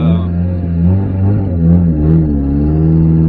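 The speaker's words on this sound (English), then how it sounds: "It's kind of crazy how loud this car is" A loud Nissan S13 Silvia engine rumbles and revs up and down continuously, its deep, nearly straight-piped exhaust note droning close to the microphone.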